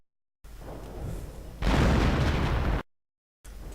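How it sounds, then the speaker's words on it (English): Artillery strike in a real-time strategy game, two bursts of roaring explosion noise, the second louder and fuller, separated by abrupt silences. "And artillery gets called in"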